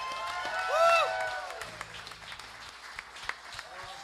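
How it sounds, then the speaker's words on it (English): A live-music audience applauds Irish dancers at a small venue, the clapping rising briefly with a shout and sung note before thinning into scattered claps under murmured voices. "Give a big round of applause to the Irish dancers one more time"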